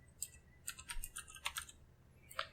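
Quick keystrokes on a computer keyboard, a short burst of soft, close clicks in an irregular typing rhythm with a brief pause midway, over a quiet background.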